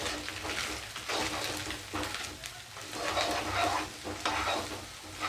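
Onion and finely chopped cabbage stir-fried in a pan for egg fried rice, a steady close sizzle broken by repeated scraping stirs of the spatula, with no talking.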